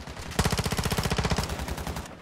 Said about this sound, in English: I was just shooting at random shit.